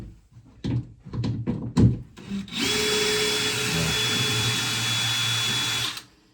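A few sharp knocks and clatters during home repairs, then a power drill whirs steadily at a high pitch for several seconds before cutting off abruptly.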